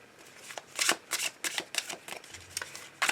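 Tarot cards are shuffled in quick riffling and sliding bursts, close and soft, repeating in an uneven rhythm with no voices.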